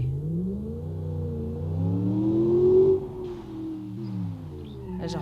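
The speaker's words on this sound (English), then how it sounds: "There's a whole different engine sound too. I'll let you listen. Sounds like a V8." The V8 engine of an ETK executive car in BeamNG Drive revs up in a rising, smooth harmonic drone, peaks, then drops and settles back to a lower idle, with no talking.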